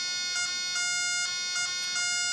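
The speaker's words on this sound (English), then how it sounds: "And you can hear the alarm." A high, steady electronic alarm tone from a TPI 721 combustible gas leak detector exposed to butane, pulsing beeps repeating at an even rhythm, fairly quiet and with no voices.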